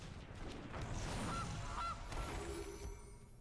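A Gilded Goose card honks in the MTG Arena digital card game, two short honks over busy game effects and whooshing background sounds.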